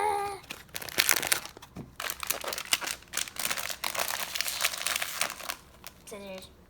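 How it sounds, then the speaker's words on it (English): Someone opens a cardboard box from a mystery egg unboxing toy, with dense, loud crinkling and rustling of packaging. Brief vocal sounds come at the start and end. "And I'm gonna open this box"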